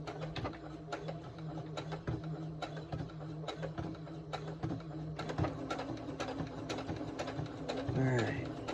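A sewing machine back stitching a fabric coaster runs in a steady mechanical hum with rapid needle ticks, close by, with occasional clicks and a brief voice near the end.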